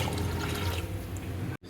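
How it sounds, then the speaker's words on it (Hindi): Water poured into a cooking pot for aloo matar pulao, a soft, steady splashing pour that cuts off abruptly at the end. "अब हम इस पॉइंट पे हम इसमें पानी ऐड कर देंगे।"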